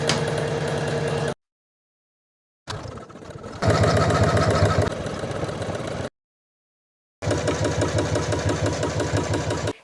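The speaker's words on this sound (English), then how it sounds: "Then we'll take it back to the embroidery machine and run the satin stitches." An embroidery machine runs satin stitches for an appliqué design on interfaced scrap fabric, a steady rapid mechanical chatter in two stretches separated by silent gaps, fairly loud and close with no talk.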